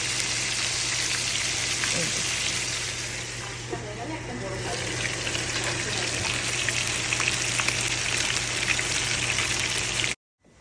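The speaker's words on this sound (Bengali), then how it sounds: "আমি এখন মাছ ভাজা চলছে এখানে তাই দেখাতে এসেছি" Fish frying in oil in a pan during home cooking, giving a steady, close hiss and crackle with a low constant hum beneath and faint voices in the background.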